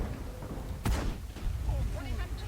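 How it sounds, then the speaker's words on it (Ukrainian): In World of Tanks, an artillery shell slams into a SOMUA SM tank with one heavy, sudden thud, then low rumbling follows. Someone talks over it. "Дивіться, арта як мене закидує, а?"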